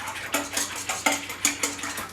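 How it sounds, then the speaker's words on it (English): A whisk clinks rhythmically against a bowl while mixing honey, sugar and yeast, around eight quick metallic taps close up with no voices. "now we are going to just give that a quick little whisk"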